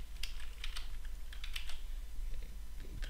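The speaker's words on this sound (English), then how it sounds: "so I'm going to type the name" Quick, light keystrokes on a computer keyboard while entering text, a brisk irregular run of clicks close to the microphone over a low steady hum.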